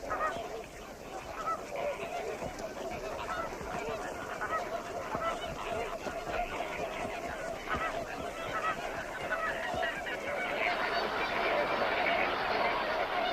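Flock of flamingos calling as adults return from their feeding grounds to the colony, a dense, continuous chorus of honking calls at moderate distance, with narration over it.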